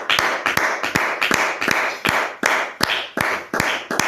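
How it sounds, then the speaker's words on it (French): A church congregation claims a steady run of loud, sharp claps, roughly two per second in a regular rhythm, close and crisp with each clap ringing briefly in the room. "Applaudissons, acclamons le Saint-Esprit"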